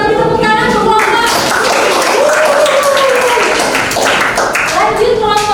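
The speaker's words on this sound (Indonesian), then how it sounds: "kita beri tepuk tangan untuk kelompok" Classroom students clap for a presenting student group, loud close claps mixed with overlapping voices and chatter throughout.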